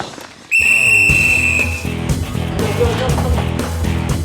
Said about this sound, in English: blew the whistle